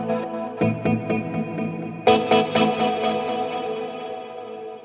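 An electric guitar plays through a Fractal Audio 80's-style preset with reverb and delay turned all the way up, chords ringing out with a shimmering chorus-like wash and long echoing tails, loud and clear with no talking.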